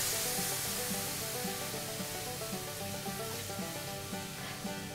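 Milk poured into a flour mixture in a hot pan for gravy, a broad steady hiss and sizzle that stays loud and even throughout, with no speech.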